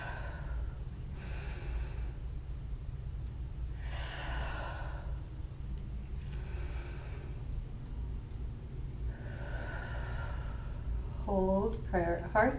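Several slow, airy breaths come and go in a steady rhythm during a calming yoga class for anxiety, soft and close over a low constant rumble, with a few brief voiced sounds near the end.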